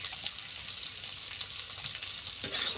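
Onion and potato sizzle in a pan with salt added, a soft constant frying hiss broken by a few light scraping stirs.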